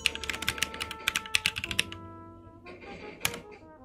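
Quick, close clacks of keys on a computer keyboard come in an irregular burst, then slow to a few scattered taps after a short pause.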